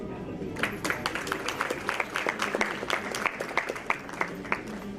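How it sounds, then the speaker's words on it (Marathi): An audience at an award ceremony, where a literary honour is being presented, breaks into steady, enthusiastic applause, dense clapping that runs throughout with a few sharper claps standing out. "आपण नक्कीच या ठिकाणी त्यांच्यासाठी नक्कीच जोरदार टाळ्या वाजूया"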